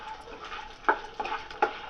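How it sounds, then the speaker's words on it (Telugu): Cashews and garlic cloves fry in oil for a crispy jowar flakes mixture, a gentle close sizzle marked by three distinct metallic stirring clinks. "మనం తీసి పెట్టుకున్న జీడిపప్పును కూడా అందులో వేసి దోరగా వేయించుకోవాలి."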